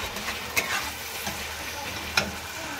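Tomatoes being stirred into frying onions in a pan for dum aloo, a steady close sizzle with occasional scraping clinks of the spoon against the pan.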